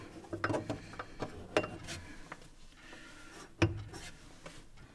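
Small metallic clicks and scrapes as a light bulb is twisted out of its socket on a steampunk Time Lord console build, irregular close ticks with a louder clack near the end, quiet room otherwise.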